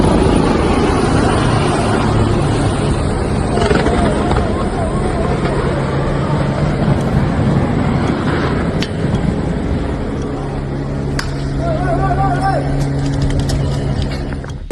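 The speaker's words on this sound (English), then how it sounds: "Two Malaysian Navy helicopters collide in mid-air," Malaysian Navy helicopters flying in formation, a loud continuous rotor and engine roar with steady throbbing, heard alongside crowd chatter.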